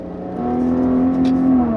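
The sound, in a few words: Maserati Ghibli 2017 engine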